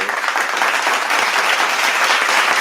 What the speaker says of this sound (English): If I can find my applause button